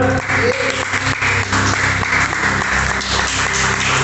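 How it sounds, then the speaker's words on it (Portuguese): A church congregation gives a round of applause after a scripture reading, sustained dense clapping filling the room for about four seconds with a low musical or rumbling bed underneath. "Uma salva de palmas por essa leitura"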